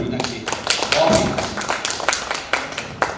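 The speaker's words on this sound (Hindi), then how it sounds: "वाह, एक बार तालियां होनी चाहिए फीना की" An audience claps in a burst of applause during a mid-brain activation blindfold reading demonstration, with dense, uneven clapping filling the room alongside voices.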